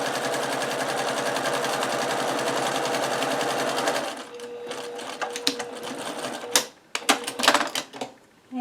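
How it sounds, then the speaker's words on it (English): Sewing machine stitching through fabric and a liner to secure Velcro on a reusable Christmas cracker: about four seconds of fast, steady mechanical whirring, then stopping into scattered clicks, rustles and handling noises, close and clear with no talk. "now I sew down this side, again about 1 inch away, and that's going to secure the Velcro"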